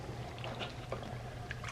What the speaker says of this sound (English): We'll wash those out into the gold pan.